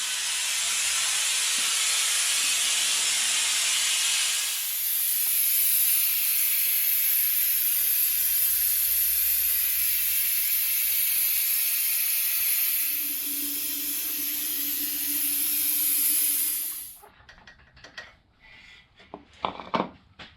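Electric pump drawing power steering fluid out of a Jeep Wrangler JK reservoir, a steady loud hiss that shifts in pitch partway through and then stops, followed by a few scattered knocks.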